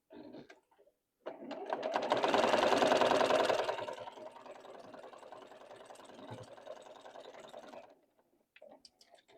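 A sewing machine stitches quilt block pieces together in one continuous run of rapid mechanical whirring, loudest at the start and then steadier. It stops with a few faint clicks on either side.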